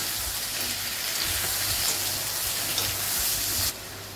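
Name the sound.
tomatoes and onions sautéing in a pan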